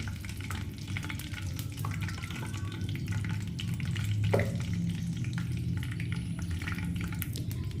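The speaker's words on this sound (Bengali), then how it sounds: "এখন এই তেলের মধ্যে আমি কারি পাতা আর শুকনো লঙ্কাটাও ভেজে নিচ্ছি।" Curry leaves and dried red chillies frying in hot oil, a continuous close sizzle and crackle with occasional stirring clinks, steady throughout with no talking.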